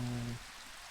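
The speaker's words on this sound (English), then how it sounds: "Come on, stop raining." Rain falls in Minecraft as a steady, soft broadband hiss that continues throughout, with a low humming tone for the first third.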